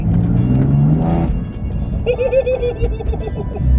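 A BMW M4 drives along a straight road, its engine note droning steadily and then easing off into a lower, fluctuating rumble with some tonal whine inside the cabin.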